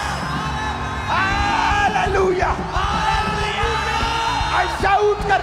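A large church congregation shouts and yells together continuously during a sermon, loud and energetic, with whoops and cries rising above the roar.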